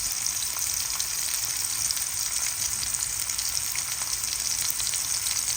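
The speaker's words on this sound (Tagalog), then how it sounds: "Nailagay na natin ang ating sibuyas." Onion sautéing with garlic and ginger in a pan for squid with tomatoes, a steady, even sizzle of frying that holds at the same level throughout with no voices.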